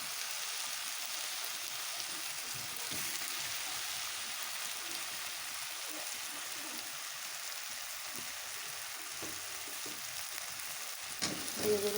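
Fish frying in sizzling spices for a Bengali fish curry hiss and crackle steadily in a pan, a continuous close sizzle with faint stirring scrapes.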